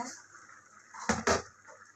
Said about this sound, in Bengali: এবার আমি ঢাকনাটা তুলে দেখবো ঝোলটা কতদূর কি হয়েছে